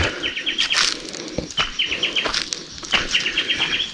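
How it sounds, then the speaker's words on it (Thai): Outdoor birdsong from birds and crows in Laos: quick trilling chirp phrases repeat a few times, mixed with soft rustling and light background noise. "เสียงนกเสียงกา"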